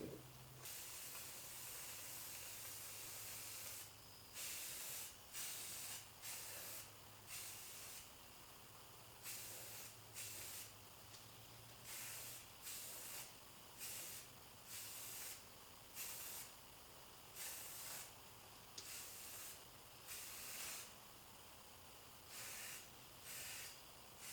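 A spray gun hisses in short repeated bursts, applying Rust-Oleum clear coat to parts of a 1964 Harley Davidson Ironhead Sportster XLCH, stopping and starting in an irregular rhythm over a low background hum.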